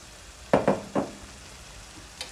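Pale dry sherry hits a hot pan with a few quick, sharp sizzling bursts, then fades back to a quiet low hiss.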